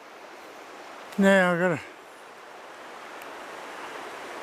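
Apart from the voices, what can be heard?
river flowing on the Upper Mersey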